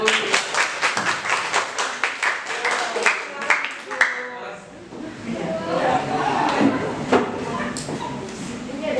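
A group in an Indonesian teachers' training session claps in a rhythmic, patterned burst of sharp, evenly spaced beats for about four seconds, then the claps scatter and fade into room chatter and talk.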